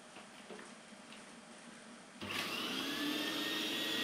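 A Kleeneze Rotork Cyclon 1000A cyclonic vacuum cleaner, an early Dyson design, switches on about halfway through with a sudden jump to a loud, steady whine that holds to the end.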